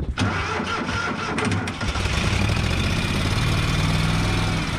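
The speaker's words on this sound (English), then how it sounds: "I should probably get the backhoe fired up just in case." A backhoe engine cranks briefly and catches, then settles into a loud, steady, rumbling idle that fills the rest of the clip.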